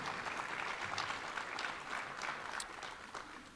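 Sustained applause from a crowd at a Hall of Fame induction ceremony, with many hands clapping at an even level and no pause throughout.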